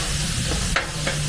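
Chili meat cooking on a Blackstone griddle, a dense steady sizzle close by with a couple of brief scraping bursts from a spatula on the flat-top, no voices.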